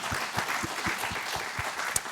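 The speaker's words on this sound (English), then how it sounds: "Give a round of applause for that." Audience applause after a talk about grit and determination, a steady wash of clapping from a seated crowd lasting the whole moment without pause.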